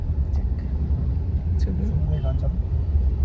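A new car with a sunroof, nicknamed Gablu, drives along a road toward a Swaminarayan temple; a steady low engine and road rumble fills the cabin throughout, with faint voices nearby.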